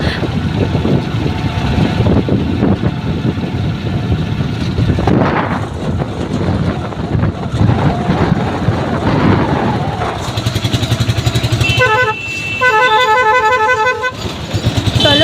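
Ride in an auto-rickshaw through traffic toward Rampurhat station, with a loud rumbling engine throughout, repeated car and bus horns blaring nearby, and a rapid patterned horn toward the end.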